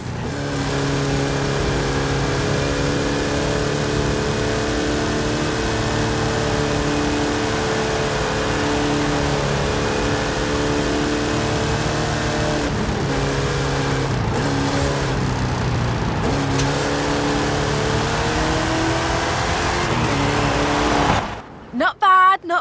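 A car engine in Forza Horizon 5 drones steadily under acceleration on a Hot Wheels track, its loud sustained tone shifting in pitch, with voices talking over it before it cuts off abruptly at the end.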